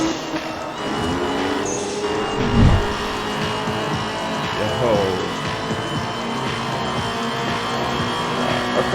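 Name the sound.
car engine in a racing video game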